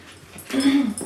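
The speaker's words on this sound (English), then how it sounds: "The dog is back." A dog gives a short whimpering whine, loud and close, rising briefly then fading over about a second in an indoor room.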